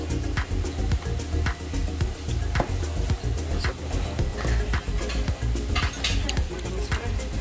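Dinakdakan, an Ilocano dish, being stirred in a bowl: repeated scraping and clinking of a utensil against the bowl in a steady, busy rhythm, close and fairly loud, with no talking.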